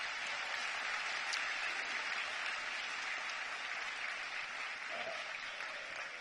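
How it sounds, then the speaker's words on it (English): A large auditorium audience at a presidential address applauds steadily for Neha, a dense, even wash of clapping that holds at a constant level throughout. "Give Neha a big round of applause once again"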